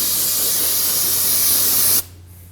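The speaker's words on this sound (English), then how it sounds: "After you bleed each caliper, it's good to clean it down with some brake and parts cleaner." A continuous, steady hiss of brake and parts cleaner sprayed onto a car brake caliper, close and loud for about two seconds before cutting off abruptly into quiet.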